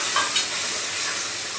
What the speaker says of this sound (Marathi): आता हे तेलामध्ये चांगलं मिक्स करून घेते, कढईला लागून नाही घेते